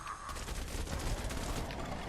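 Candy Corn LMG firing in Fortnite Save the World, a steady stream of rapid automatic shots kept up through the whole stretch at moderate, fairly muffled volume.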